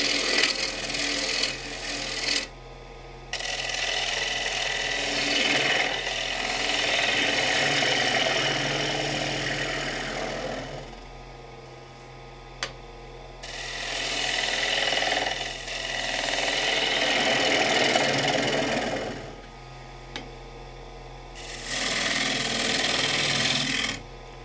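A wood lathe spins a figured apple wood bowl at about 1200 rpm, a steady motor hum with the scraping rasp of a cutting tool coming and going in long passes, broken by short quieter pauses.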